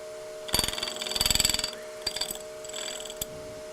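A woodturning tool cuts into wood spinning on a lathe, with rapid rattling, chattering bursts over a steady motor hum, intermittent and close.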